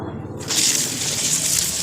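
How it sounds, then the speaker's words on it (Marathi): Released water flows onto a papaya farm plot, starting abruptly after a brief quieter moment, then rushing on loud and steady. "पाणी आमच्या इकडे सोडून दिलेलं आहे"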